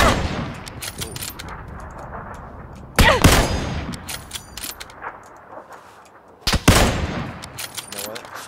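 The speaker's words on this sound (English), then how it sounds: "What is he shooting at now?" Bursts of gunfire from the video game PUBG crackle repeatedly, with two loud, close shots standing out among sharp rapid reports, and a voice speaks briefly over them.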